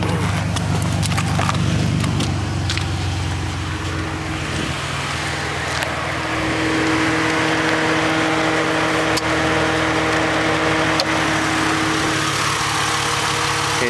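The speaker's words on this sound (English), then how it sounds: "Try to check out the engine real quick." A stock-engine 2006 Ford Mustang Pony Package with Flowmaster exhaust idles steadily and close by, a constant low rumble with a faint mechanical hum and no talking.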